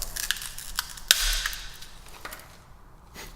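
Back glass of an iPhone XS cracking under force, a sharp snap followed by brittle crunching and faint crackles, close and alone without talk.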